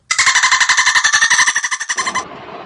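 A rapid train of dolphin clicks, a loud buzzing pulse sequence lasting about two seconds before cutting off.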